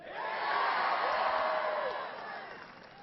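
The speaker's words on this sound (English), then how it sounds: "big round of applause for the great introduction." Crowd cheering and whooping at Barack Obama's 2012 Iowa campaign rally, a dense, sustained roar of voices that swells and then gradually eases off.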